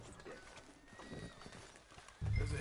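A horse's hooves clip-clop on a street in the video game Red Dead Redemption 2, soft steady footfalls under low ambient noise, ending in a louder burst of sound.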